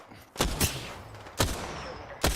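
Gunfire in the video game Apex Legends, four sharp loud shots spaced irregularly, each a broad burst with a brief tail, against a low background hum.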